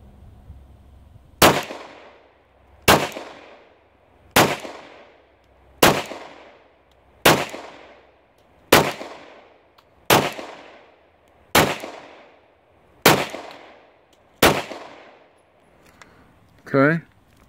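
Ten 9mm Corbon DPX rounds are fired one at a time into a bulletproof vest, each loud, sharp report evenly spaced about a second and a half apart with a ringing decay, followed by a brief mechanical clatter.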